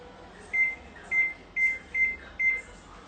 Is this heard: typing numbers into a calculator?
no